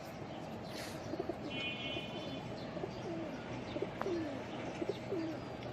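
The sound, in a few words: racing pigeons cooing in a loft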